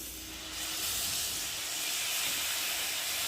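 Soy sauce hitting a hot pan of Maggi noodles, a sudden loud hissing sizzle swelling after a brief quieter moment and holding steady to the end.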